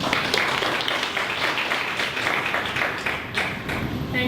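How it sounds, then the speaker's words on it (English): An audience at an LA2M talk applauds to welcome speaker Marisa Smith, a dense, steady wash of clapping that holds at a fairly loud level throughout without voices standing out. "let's give Marisa Smith a warm round of applause"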